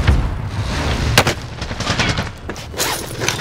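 In a video game, a Semtex sticky grenade goes off amid close gunfire, with loud booms and sharp shots overlapping in dense, busy combat noise.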